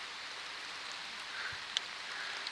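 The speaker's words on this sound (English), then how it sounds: "I can hear the rain starting to pick up again" Rain falls steadily in the mountains near a small stream, a soft continuous hiss of drops on leaves and ground, fairly faint, with a single sharper drip standing out.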